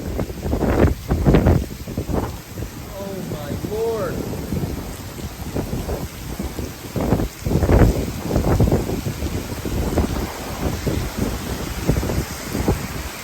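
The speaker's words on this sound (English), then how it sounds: "That was a big gust. 80-mile-per-hour gust right there." Strong wind gusts of around 80 mph roar in bursts during a nighttime windstorm, buffeting the microphone loudly and unevenly, with a voice heard briefly amid the rushing noise.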